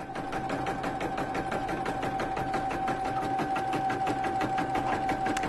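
A Brother Innovis 1500D sewing machine runs a continuous stitch, its needle ticking in a fast, even rhythm over a steady motor hum, close and unbroken throughout.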